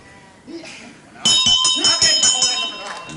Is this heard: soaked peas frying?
no